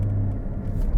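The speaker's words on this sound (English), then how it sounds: "So it gives the throttle a little blip for you" A Porsche GT car, a 911 GT3 or Cayman GT4 with a manual gearbox in sport mode, downshifts with an automatic rev-matching throttle blip, a loud low engine rumble swelling briefly near the end of a one-second burst.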